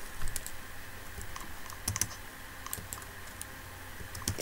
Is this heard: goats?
no